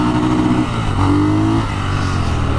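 A Triumph Scrambler 1200 motorcycle accelerating hard at full throttle, its engine note loud and close, the pitch rising in a steady drone with a brief dip mid-run before climbing again.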